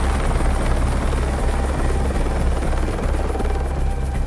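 Steady, loud rescue helicopter rotor thrum and engine whine, continuous and close throughout.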